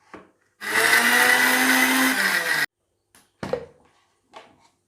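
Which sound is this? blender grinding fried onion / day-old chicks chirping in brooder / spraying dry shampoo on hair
blender grinding fried onion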